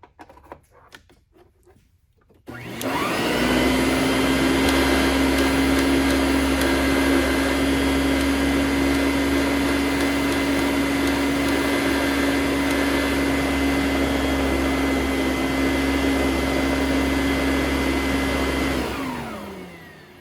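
An Electrolux Epic upright vacuum cleaner starts up and roars loud and steady for about sixteen seconds with a constant high whine, then winds down at the end.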